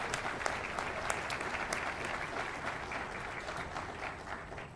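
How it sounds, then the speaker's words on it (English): Audience applause at a Southwestern Community College fall commencement, a steady wash of many hands clapping, moderately distant and sustained for several seconds. "Let's give them a round of applause and thank you."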